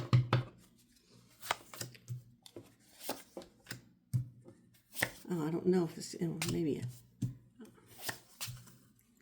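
Quick papery riffles and taps of smaller-than-normal playing cards being shuffled, close by in short bursts, with a person speaking briefly partway through.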